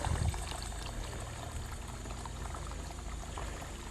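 A homemade tankless water heater hisses and churns steadily as it heats water, a low, even rushing like boiling or pouring liquid, close and unbroken with no voices.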